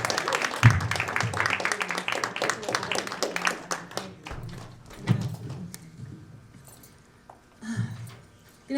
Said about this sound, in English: Y'all can clap her all the way up.